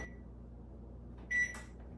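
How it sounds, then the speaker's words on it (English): Kitchen oven being set to preheat to 350, a short bright electronic beep as buttons are pressed, heard close against a low steady room hum. "First thing we're gonna do is preheat the oven to 350."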